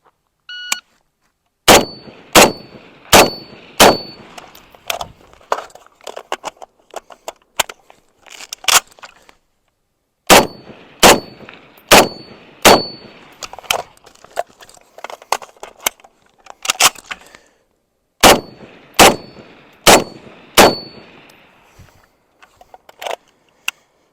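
M1A rifle shots fired in two bursts, each a rapid string of sharp, loud cracks followed by ringing clangs from steel targets downrange, with a pause between strings for a reload; faint scuffing fills the gaps.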